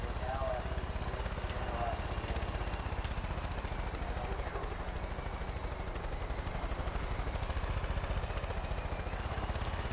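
In the video game Far Cry 5, a helicopter gives off a continuous rotor and engine drone that holds steady and loud for the full ten seconds, with no break and no speech.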